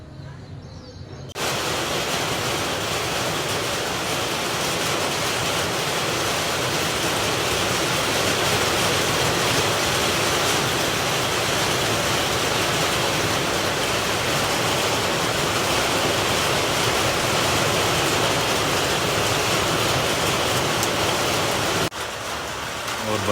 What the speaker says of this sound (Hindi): और बारिश लग चुकी है।